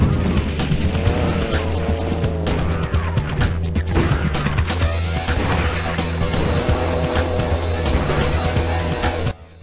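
A scooter or motorbike drives in the PlayStation game Team Buddies, its engine droning loudly and continuously with tire squeals and skids layered over busy game effects until it cuts off abruptly.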